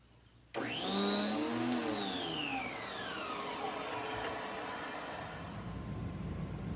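Electrolux central vacuum system unit switching on with a sudden loud whoosh, motor whine rising then sliding down in pitch before settling into a steady, even roar of airflow, heard alone without voices.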